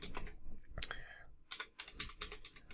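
Quick clicking keystrokes on a computer keyboard as a kubectl command is entered at a command line, close and fairly faint, in short irregular bursts with a brief pause in the middle.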